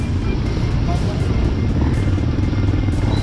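A motorcycle engine rumbles loudly and steadily with a low, continuous drone, mixed with rough outdoor noise at a river crossing, and voices are heard over it.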